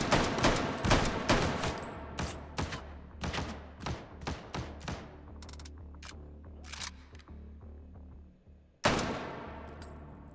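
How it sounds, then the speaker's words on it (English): Gunfire in a WW2 VR shooter game map: sharp close shots fired in a rapid irregular string, thinning to scattered single cracks, then a fresh loud burst near the end. "I just heard some shooting."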